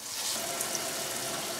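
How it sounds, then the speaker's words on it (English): Water poured into seed starting mix for hot pepper seeds, a steady soft splashing trickle heard close and alone. "I'm going to add a little more water and get it a little more saturated"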